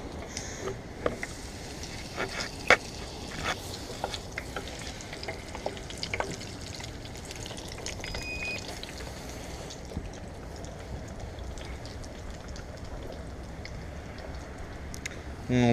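Chicken wings deep frying in hot oil, a steady dense sizzle and crackle with scattered sharp pops, close and continuous with no talking over it.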